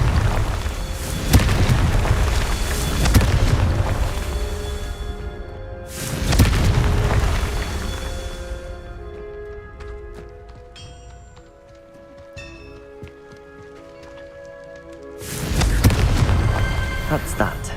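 Fiery blasts of the Confringo explosion spell in Hogwarts Legacy: three loud, booming bursts, each rumbling and fading over a couple of seconds, with quieter magical tones and game effects in between.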